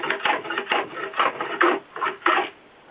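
A hand fore plane hogs off wood from a board clamped between bench dogs on a Roubo workbench, producing a run of about six rasping, shaving strokes in steady rhythm, close and fairly loud.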